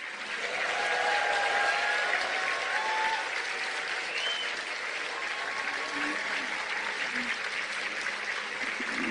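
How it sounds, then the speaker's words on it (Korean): Sustained audience applause fills a ceremony marking a chairman's inauguration at the Korea Direct Selling Association, steady and even for the whole stretch with no voices over it. "박수 부탁드립니다."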